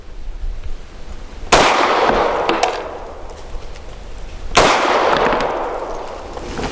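Two sharp, loud pistol shots from a Tisas Zigana PX-9 G2 9mm pistol, about three seconds apart, each followed by a long reverberant decay at a shooting range.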